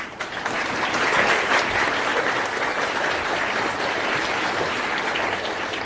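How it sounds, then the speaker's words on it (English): A lecture audience claps steadily to welcome the director of a society before a fall lecture on C. S. Lewis, with dense, even applause filling the room throughout. "So please give a warm round of applause to Brian."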